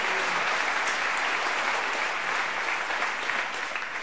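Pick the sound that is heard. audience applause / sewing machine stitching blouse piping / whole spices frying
audience applause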